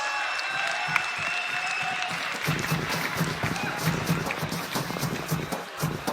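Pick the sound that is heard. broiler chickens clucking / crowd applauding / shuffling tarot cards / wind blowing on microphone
crowd applauding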